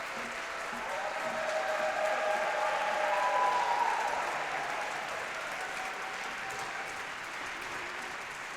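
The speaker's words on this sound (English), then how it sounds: "Let's also give a round of applause for our AXO students" Crowd applause for NAACP AXO program students at a Martin Luther King Jr. Day tribute, sustained clapping with a few cheers, loud and even throughout.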